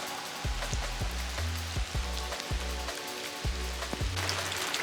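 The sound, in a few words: rain falling at a campground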